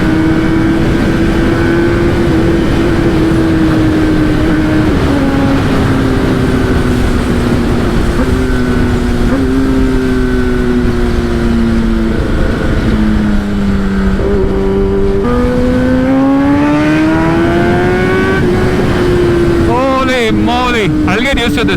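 A Kawasaki ZX-10RR litre-class motorcycle engine revs and pulls hard while riding, holding a loud, steady high whine with repeated upshifts and dips in pitch, then a rising sweep near the end, wind roar constant underneath.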